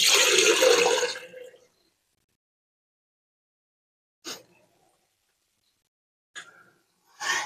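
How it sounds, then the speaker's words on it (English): Water pours from a small watering can into potted plants in a short close splash, then after silence a couple of brief drips and trickles follow. "when I go to water, I like to water 2 liters at a time"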